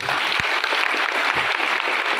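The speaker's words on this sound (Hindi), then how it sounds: "भैया का जोरदार ताली से आपने स्वागत करा" A crowd at a political gathering applauds loudly to welcome a speaker, a dense, continuous roar of clapping with a few heavier thumps mixed in, sustained throughout.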